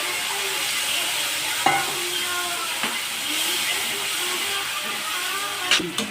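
Tamarind juice poured into a pan of frying Nellore-style vada curry, giving a steady broad sizzling hiss with a few sharp spits and crackles, close and continuous throughout.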